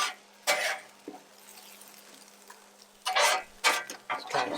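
A big spatula scrapes food across a Blackstone griddle in several short, distinct metallic strokes with quiet pauses between them, close and moderately loud.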